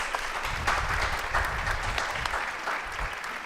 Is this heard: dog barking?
no